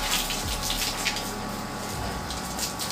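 Running water rinsing a bicycle gives a steady, close gushing flow with a faint low hum from a pump or tap underneath, continuous throughout and without talk.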